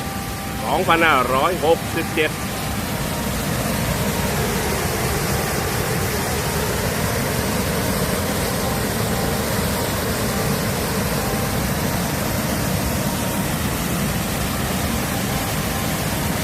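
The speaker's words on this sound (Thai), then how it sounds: "น้ำตกตาโตน จังหวัดชัยภูมิ" Ta Ton waterfall in Chaiyaphum province, Thailand, pours as a constant broad roar. A brief voice comes at the start, then the loud rushing water carries on alone.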